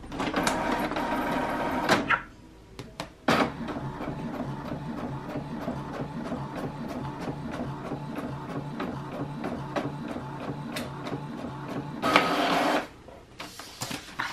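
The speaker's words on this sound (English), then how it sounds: "if you have a printer like I do, you guys will see this printer" A printer prints a shipping label, whirring and clicking steadily at close range, with louder mechanical feed surges near the start and again toward the end.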